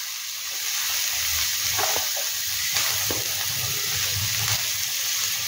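Vegetables for veg Manchurian are stirred in a hot pan, with a steady frying hiss, a few soft scrapes and knocks, and a low rumble underneath.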